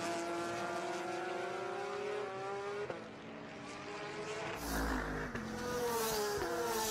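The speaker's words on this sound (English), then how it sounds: "Beautiful drift there by Scott Hargrove." A GT race car drifting at the Lime Rock racetrack during a GT-X race, its engine a loud sustained roar with rising and falling pitch through the corner, blending with other cars' engine noise, no voices.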